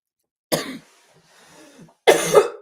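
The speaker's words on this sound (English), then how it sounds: "Bet you guys are super glad that you tuned in to hear me cough today." A single person coughs harshly up close, a short burst followed by a quieter throat-clearing rasp, then another loud, deep cough, with silence between.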